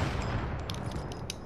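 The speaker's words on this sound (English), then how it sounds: "As soon as you hear me shoot, shoot" A few sharp gunshots in an online video game crack out over a loud, constant noisy game backdrop within a brief moment.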